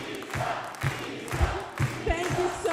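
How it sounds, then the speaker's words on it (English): An elated crowd cheers at an election night party for the Spokane mayoral race, a dense roar of voices with repeated louder shouts and whoops rising out of the steady din. "the crowd here below was elated"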